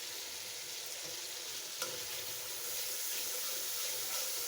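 Chicken with ginger-garlic paste, cumin paste and salt sizzles steadily in a pan, with scraping stirs, for a chicken and radish curry; a continuous close frying hiss runs throughout with no talking.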